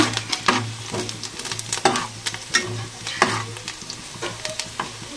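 Spices fry in a pan ahead of the bitter gourd, a sizzling bed broken by repeated sharp clinks and scrapes of a stirring spoon at an uneven rhythm, close and without talk.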